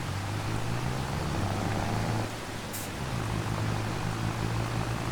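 Mercedes tractor engine in Farming Simulator 25 drones steadily while hauling a trailer, a constant low hum under a broad wash of noise that briefly dips midway and then resumes.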